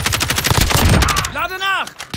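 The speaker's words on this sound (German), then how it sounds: "Werde hier beschossen!" Rapid automatic gunfire in Call of Duty Warzone, a burst of sharp close shots in quick succession, followed by a voice speaking in German.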